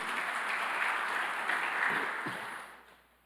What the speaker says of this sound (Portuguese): Vamos aplaudir esse texto?